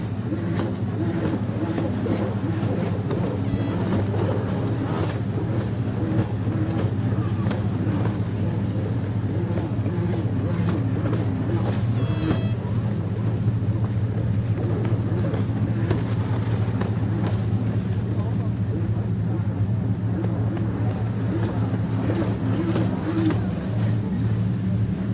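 Dirt bikes racing in a motocross event, a steady, continuous engine drone heard from a distance with wind noise, sustained and unbroken for the whole stretch.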